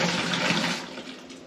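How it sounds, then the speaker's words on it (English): Liquid sanitizer poured into a homebrewing carboy, a loud, close gushing splash that runs for about a second before tapering off. "Go ahead and pour some sanitizer in there."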